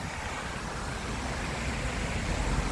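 Steady, broadband outdoor roar beside the water near a city centre, continuous and unchanging like wind or surf mixed with distant traffic, with no speech.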